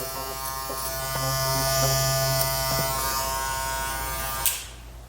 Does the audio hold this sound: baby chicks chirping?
no